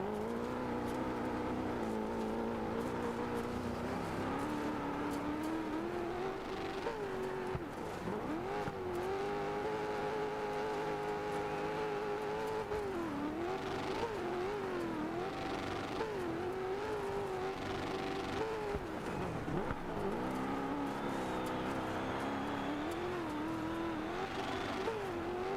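Rally car engine roaring through a race in the video game Dirt 4, loud and continuous, its pitch climbing and dropping with gear shifts and throttle changes throughout, with no talking.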